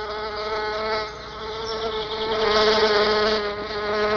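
Male bees fly in toward an orchid, their wings making a close, loud, continuous buzzing drone that rises and falls slightly, with no talk.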